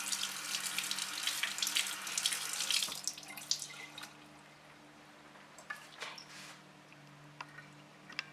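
A tap runs steadily for the first few seconds as water splashes onto a makeup sponge, then the flow stops, leaving a few scattered drips and small handling sounds against a low steady hum.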